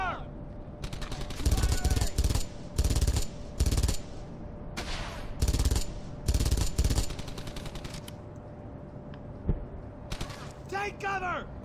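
Battlefield gunfire on a PS3 bursts out in loud automatic volleys with short gaps between them. Game voices are heard between the bursts.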